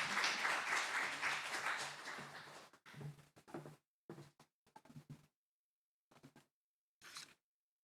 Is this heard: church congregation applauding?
yes